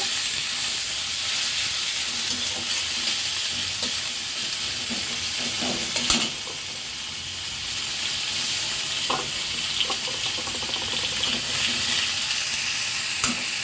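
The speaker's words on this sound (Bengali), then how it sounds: "আদা কুচি রসুন কুচি একটু ভেজে নিয়েছি। এখন আমি চিকেনটা দিয়ে দিব।" Chicken pieces frying in a pan with chopped ginger and garlic, a steady loud sizzle throughout with occasional scraping stirs and a sharp clatter midway.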